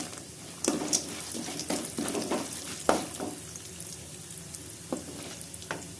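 Peanuts, toor dal and urad dal fry in oil in a pan for curry leaf rice, giving a close, steady sizzle with sharp crackles and pops scattered throughout. No one speaks.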